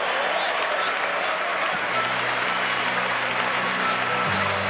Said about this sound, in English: the biggest cheer of the lot for Yaya Toure